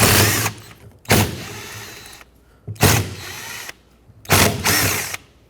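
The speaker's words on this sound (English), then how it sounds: "Take a 10mm socket and remove the 4 mounting nuts." A power driver with a 10mm socket whirs in four loud, close bursts with short pauses between them, spinning off the fan clutch mounting nuts on a 1996-2002 Toyota 4Runner.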